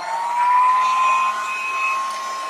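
A hair dryer blows steadily on painted stencils, a loud continuous whir with a slight whine that dips briefly midway, alone without voices.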